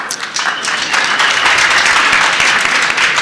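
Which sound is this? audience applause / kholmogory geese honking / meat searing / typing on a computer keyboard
audience applause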